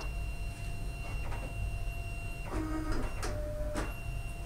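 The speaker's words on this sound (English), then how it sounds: "It's going to feed in the card." A Fargo DTC4000 card printer feeds in a cleaning card, giving a quiet mechanical whir with steady tones, then clicks and sliding clunks as the card moves, all close and without talk.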